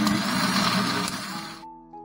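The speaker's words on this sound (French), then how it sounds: "j'ai mis mes ingrédients dans mon mixeur" A kitchen blender whirs loudly and steadily as it purées ginger, dates and water, then cuts off abruptly, leaving a faint electrical hum.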